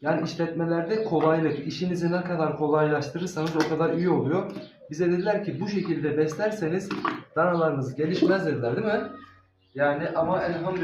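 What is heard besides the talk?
No everyday noises stand out.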